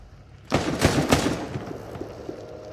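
Video-game gunfire from a BTR armored vehicle: a sudden loud burst of several sharp shots in quick succession, followed by a decaying rumble and scattered smaller reports, with no talking over it.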